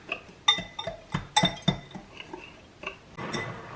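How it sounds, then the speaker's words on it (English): A metal whisk mixing a dry spice rub for smoked pork shoulder in a bowl gives a string of bright, irregular clinks and taps, close and fairly quiet, with small pauses between strokes. "But now let's get our whisk and get this all mixed in together."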